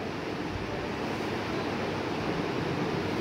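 Urea water poured onto powdered arhar dal makes a steady, even rushing wash of liquid, close and continuous for a few seconds with no talking.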